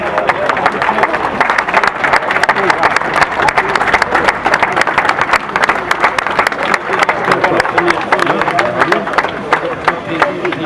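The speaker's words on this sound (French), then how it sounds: "Je vous demanderai d'applaudir Tyler Williams." Loud, sustained applause from a crowd at the podium ceremony after the third stage of the Triptyque ardennais cycling race in Trooz, dense clapping with some crowd murmur throughout.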